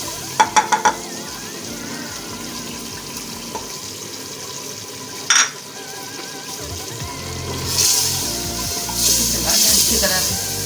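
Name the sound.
yogurt added to sizzling tinda gosht curry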